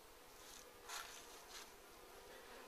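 Honey bees and robber bees buzzing steadily nearby, a faint continuous drone with a couple of louder passes as insects fly close, no voices.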